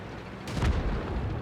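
Cannon shot from a tank in World of Tanks, a single deep muffled boom that rises suddenly midway and rumbles on briefly over steady background noise.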